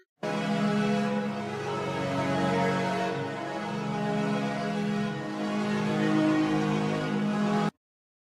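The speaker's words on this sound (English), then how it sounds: "Let's check out some pad-like sounds." Sustained, evolving synthesizer pad chords swell and shift continuously with no pauses, steady and moderately loud throughout.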